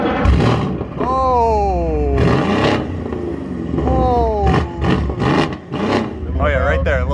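A tuned catless Mercedes-AMG rated at 610 horsepower to the wheels fires up and revs hard nearby, loud roaring sweeps rising and falling in repeated blips over an idle rumble, with people talking around it.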